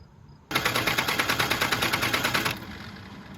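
A truck's engine cranks after its injectors are bled, a loud, steady, rapid chugging rhythm that runs for about two seconds and then drops to a lower rumble.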